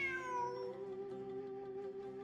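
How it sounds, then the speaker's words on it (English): A cat meows in Genshin Impact, a long, drawn-out cry that slides down in pitch and then holds steady. It is heard alone, with no talking over it. "Look, a cat."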